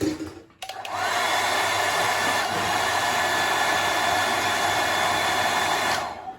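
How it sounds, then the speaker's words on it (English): A Happy Hobby hair dryer switches on and blows with a steady, loud whooshing roar for several seconds before cutting off, drying surface water from a model after applying decals. "I'm now going to quickly grab my Happy Hobby hairdryer."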